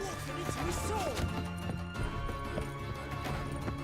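Horse hooves clip-clopping at a gallop in The Witcher 3, rhythmic thuds under dense game music and scattered speech, with a brief whinny-like rising tone near the start.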